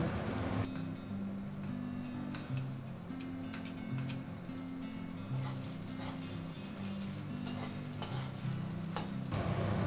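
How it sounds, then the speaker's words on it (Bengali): Onions for a Bengali pointed gourd curry sizzle steadily in a hot pan, close up, with occasional scraping stirs and light metallic clinks throughout. "পেঁয়াজটা এবার ভেজে নেব। পেঁয়াজটা ভাজা হয়ে গেছে, এবার আদা রসুনের পেস্টটা দিয়ে দেবো।"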